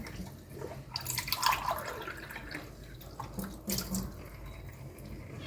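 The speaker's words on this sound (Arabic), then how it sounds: "نحط فقط ربع كوباية مية" A quarter cup of water is poured onto sweet potatoes in a pot, giving a splashy trickle with drips that rises and fades in close, uneven bursts.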